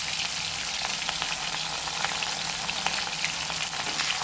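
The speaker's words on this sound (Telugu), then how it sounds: "నూనె కాగింది. ఇక ఉల్లిగడ్డలు, పచ్చిమిర్చి," Onions and green chillies with salt sizzle steadily in hot oil in a pan, a continuous close crackling hiss with occasional sharper pops, no voices over it.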